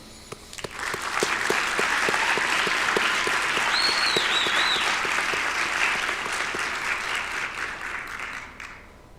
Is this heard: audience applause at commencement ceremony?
yes